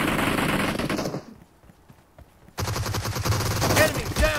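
Loud, rapid automatic gunfire in the PUBG Mobile Gun Game mode, fast bursts that stop for about a second before resuming with more shots.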